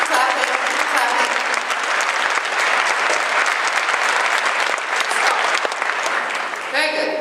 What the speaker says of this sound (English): I just want you to clap a little bit. Just clap. Keep clapping, keep clapping.